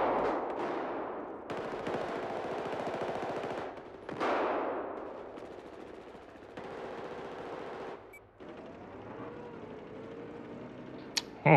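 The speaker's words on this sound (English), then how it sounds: "Oh, that was a cruise missile." A cruise missile strike in a multiplayer shooter game, a long roaring rush of heavy explosive noise with sharp bursts and rumbling blasts, loud and continuous before fading into lighter debris and wind sounds.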